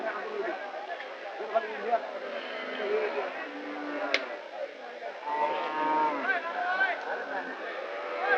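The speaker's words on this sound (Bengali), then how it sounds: "যে অনেক বড় বড় গরু অনেক বড় সাইজ গরুগুলো দেখেন অনেক বিগ সাইজ গরু দেখি" Cattle low at the Kalampur cow market ahead of Qurbani: drawn-out moos rise over constant crowd chatter and market bustle, with a brief sharp sound midway.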